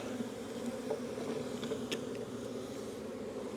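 A honey bee swarm being coaxed into a hive after a spritz of swarm lure, giving a steady, dense drone of many wings close by, with a few louder passes as single bees fly near.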